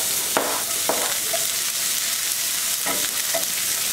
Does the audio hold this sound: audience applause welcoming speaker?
no